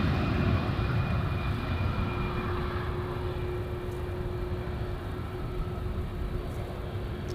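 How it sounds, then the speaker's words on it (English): Airbus A320 jet airliner at LAX, a steady broadband engine roar holding at a constant level and fading slightly, with a faint tonal whine riding over it and no voices. "Flight 523, a A320, Airbus A320."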